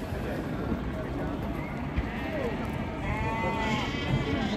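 Lambs bleat in a busy sheep market at Ganja, the calls faint and scattered among the crowd noise, while people talk and haggle close by.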